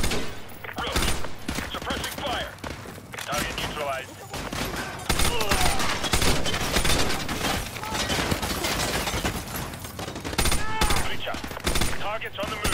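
Heavy suppressing gunfire in Call of Duty: Modern Warfare 2 Campaign Remastered, near-continuous bursts and fusillades with explosions mixed in, while voices shout over the shooting.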